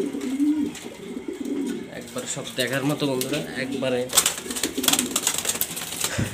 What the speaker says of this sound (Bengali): সব কোয়ালিটিফুল কবুতর মাশাআল্লাহ, পছন্দ হওয়ার মতো কবুতর